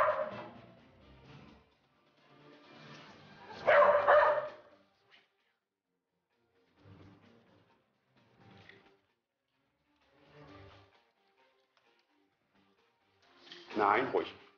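A police sniffer dog barks in several short bursts, close and fairly loud, with pauses between and a few quieter yips, while a handler speaks in between.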